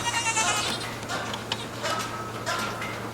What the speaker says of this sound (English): We've had goats over here squeaking away on the bars.